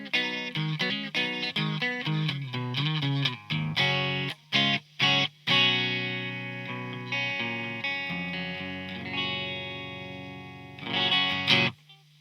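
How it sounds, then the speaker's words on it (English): An electric guitar plays a clean, dry tone with reverb switched off through an inexpensive delay pedal: quick plucked notes and chords, then sustained ringing chords with short gaps, played alone. "So that's the clean sound. Standard nice clean sound."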